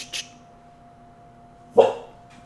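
A pet dog indoors gives two sharp barks, a smaller one at the start and a louder one near the end, separated by quiet with a faint steady hum.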